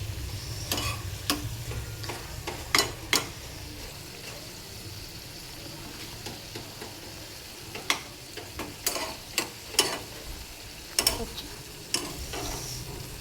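A whole lotte fish simmers and sizzles softly in a pan, a low steady bubbling bed broken by sharp scattered clicks and scrapes of a utensil stirring, faint and close.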